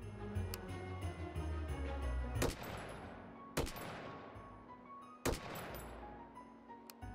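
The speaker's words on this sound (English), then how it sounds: "Let me just get a little bit of gun action here." A full-auto 5.56 rifle in the VR game Hot Dogs, Horseshoes & Hand Grenades fires in three sharp bursts, each crack ringing out with a trailing echo, between quieter mechanical handling noises.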